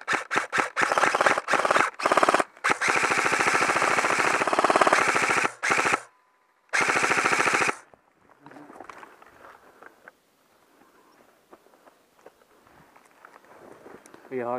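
Airsoft guns firing during a game in Norway, long rapid bursts of automatic clatter broken by short pauses, loud and close, then fading to quieter rustling and movement, with people talking in the background.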